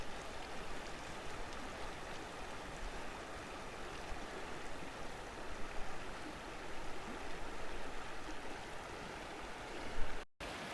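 Creek water flows steadily near the east fork of the Gila River, a broad continuous rushing and burbling wash, close and fairly loud throughout with no voices, ending in a brief bump and cutoff.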